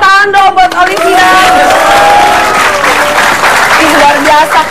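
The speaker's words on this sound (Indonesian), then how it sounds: "Beri tepuk tangan dong buat Olivia." A studio audience claps loudly on a television show segment about martial arts, with a host's amplified voice talking over the applause.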